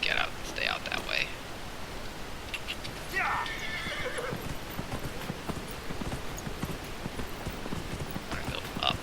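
Horse in Dragon Age: Inquisition neighing and whinnying in short bursts, with steady clip-clop hooves running underneath throughout, close and fairly loud; a voice talks over parts of it.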